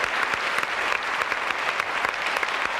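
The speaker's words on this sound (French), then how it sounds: "Merci Brigitte, applaudissements" A French television studio audience applauds during a talk show, a dense, steady wash of clapping that fills the whole stretch with no voices over it.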